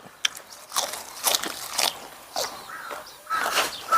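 Crisp crunching bites and chewing, close up, come in irregular bursts, some sharp and loud, others softer, with no talking.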